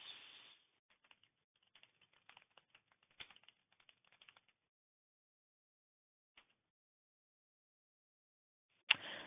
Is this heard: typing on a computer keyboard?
yes